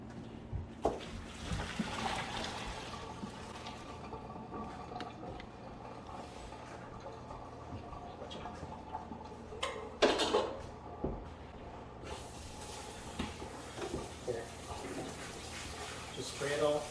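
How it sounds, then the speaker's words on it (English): Cooked asparagus is drained and then sprayed with cold water from a kitchen tap, giving a soft running and splashing wash with a brief clatter of the pot, while a person talks over it. "we're going to spray it down with cold water because we want to stop the cooking process at this point"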